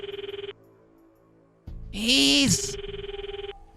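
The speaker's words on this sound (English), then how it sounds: "Footsteps overlapped with the sound of the ringing" A phone ringing in a tense scene from the Steins;Gate 0 game: steady electronic ring tones repeat at the start and end, interrupted by a brief loud rising shriek, with a short spoken word in the middle.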